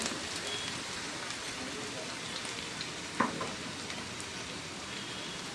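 Vegetables frying in oil in a home kitchen pan for Manchurian, a steady soft crackling sizzle with faint stirring and one brief clink near the middle.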